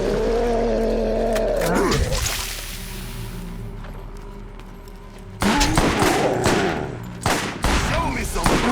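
Sniper rifle shots and other gunfire from the Borderlands video game, loud sharp bursts at the start and a dense cluster of shots after a quieter stretch, mixed with game roars and effects.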